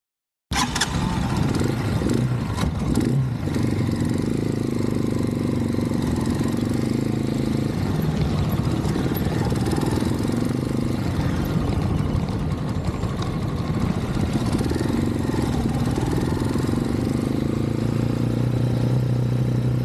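A Janus Halcyon 250 motorcycle engine runs steadily for about nineteen seconds, a close, loud low-pitched idle with mechanical clatter and slight swells in revving, starting abruptly after a brief silence.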